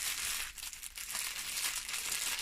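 Continuous crinkling of a thin plastic pouch of diamond-painting diamonds handled close by, a bright crackly rustle with slight dips in intensity.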